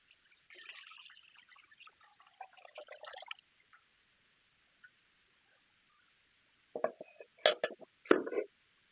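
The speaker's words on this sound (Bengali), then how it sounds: "আমি এখন দুধ দিয়ে দিচ্ছি" Warm milk pours into a pot with a soft, gurgling splash lasting a few seconds. After a quiet gap, several louder sloshing bursts follow.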